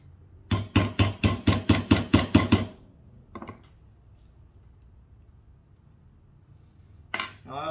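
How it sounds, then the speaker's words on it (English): Nine sharp hammer blows in a quick steady rhythm driving a nail into wood, close and loud, then a lone faint knock and a brief clatter near the end. "So I'm going to go ahead and put this nail in."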